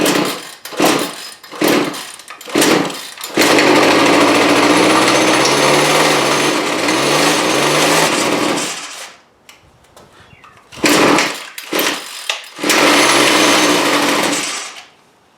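A Craftsman weed wacker engine runs after its carburetor was cleaned, with short buzzing bursts, a sustained high-pitched two-stroke whine for several seconds, a drop into quiet, then more sputtering revs, close and loud.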